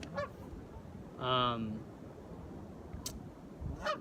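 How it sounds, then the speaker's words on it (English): A goose honks in the background of an interview recorded outdoors, giving a few loud, rough honks in a short burst amid distant background noise, with fainter honks before and after. "This goose is cracking me up in the background."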